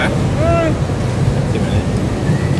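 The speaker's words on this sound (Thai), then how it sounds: "ลมเขาแรงมาก" Strong wind buffets the microphone with a constant low roar outdoors in Singapore, with faint voices and a brief tonal sound partly buried underneath.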